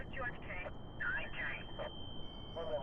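A phone vibrating in The Longest Journey video game, heard as a steady, thin electronic buzz that runs the whole time beneath intermittent talking voices.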